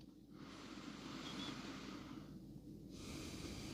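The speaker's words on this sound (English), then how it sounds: "Breathing in." A slow, soft breath drawn in through the nose during a quiet mindfulness practice, faint and airy, rising gently and sustained for a few seconds with a brief pause in the middle.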